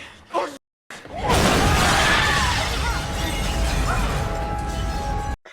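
Glass shattering in a scene from the 2000 movie Final Destination: a sudden loud crash bursts in after a brief gap and sprays into a dense, noisy spill of breaking debris lasting several seconds before cutting off.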